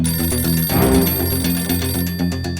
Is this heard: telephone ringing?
yes